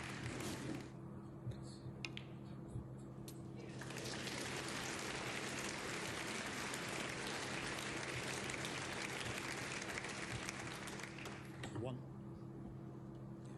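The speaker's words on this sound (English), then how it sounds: "Big round of applause from the crowd" Crowd applause at a snooker match, UK Championship 2023 between Ronnie O'Sullivan and Robert Milkins, a steady broad wash of clapping that swells after a few seconds and holds at moderate level before easing near the end.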